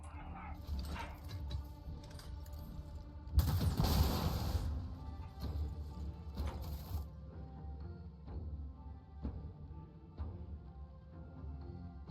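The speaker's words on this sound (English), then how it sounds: "my dogs had heard the door knock. They go ballistic for some reason with the door." Several pet dogs bark indoors after a knock at the door, a faint burst of excited barking under video game sound effects and background music.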